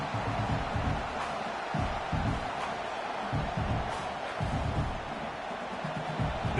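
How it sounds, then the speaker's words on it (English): Dense, steady stadium crowd roar at an Oklahoma vs LSU game fills a large open space, a continuous wash of many voices with occasional swells, loud and unbroken throughout. "This crowd bringing the energy and noise early."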